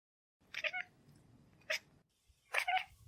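A domestic cat chatters in three quick, close bursts of rapid clicking cackles, the kind a cat makes when watching birds, with short quiet gaps between them.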